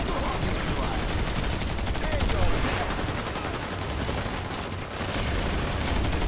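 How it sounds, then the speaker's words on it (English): NS-15 M2 machine gun fired by a heavy assault trooper in PlanetSide 2, rattling in rapid, sustained automatic bursts with a dense, loud, even rhythm and only a brief dip near the end. "that NS-15 M2 machine gun for the heavy assault trooper"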